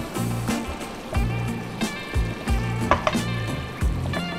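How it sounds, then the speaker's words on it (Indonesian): Freshly made pasta stirred in a hot pan, with repeated close scrapes and clinks over a steady frying sizzle, no talking. "Kita aduk."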